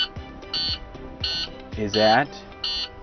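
Repeated short electronic beeps of a low air pressure warning alarm during a truck air brake test, sounding in regular bursts under a man's nearby speech.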